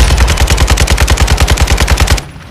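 Rapid automatic gunfire in Call of Duty Modern Warfare II: a loud, steady burst of about twenty evenly spaced shots from a tuned weapon. It is heavy and close, then cuts off abruptly into near silence.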